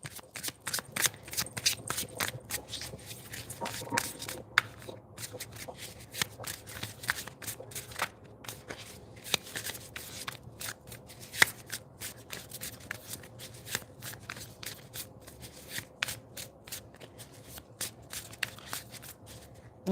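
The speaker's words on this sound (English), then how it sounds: "Okay, I'm going to do a different type of shuffle." Tarot cards are riffled and shuffled by hand in a long run of crisp, rapid flicks and snaps, close and fairly quiet, with no talking.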